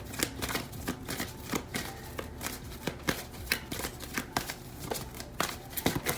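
Tarot cards shuffled steadily and close by, giving a continuous stream of crisp card slaps and riffles over about six seconds, with no voice.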